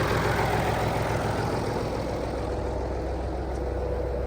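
A tractor engine runs steadily at a farm field before cultivation work, a low, even drone holding constant throughout with no voices over it.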